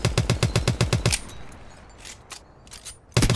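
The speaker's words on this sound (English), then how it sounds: "Then we've got the Machine Pistol, which is one I've recently made." A Machine Pistol fires in an Apex Legends game mod: a rapid, loud burst of about ten shots, then a pause with faint mechanical clicks, then another burst of gunfire begins.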